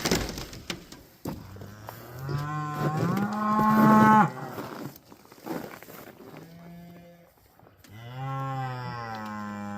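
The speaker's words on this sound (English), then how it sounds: "let the cows into these calves" Cows moo inside a barn on a freezing night at -25C, several long, loud, drawn-out calls overlapping with a deep bellow near the middle and another moo at the end.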